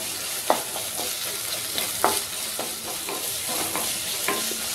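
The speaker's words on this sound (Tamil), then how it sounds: "ரெண்டு வெங்காயம் கட் பண்ணி வச்சுருக்கேன், அதையும் சேர்த்துக்கிறேன். வதக்கி விட்டுட்டு" Two chopped onions sauté in a pan for a potato masala filling, a steady close sizzle with several sharp scrapes and taps of the stirring spoon, no voices.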